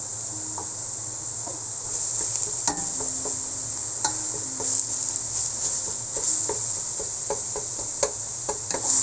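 Ground meat frying with cooked onions in a pan for palabok, a steady bright sizzle close up, punctuated by repeated sharp scrapes and taps of a spatula stirring.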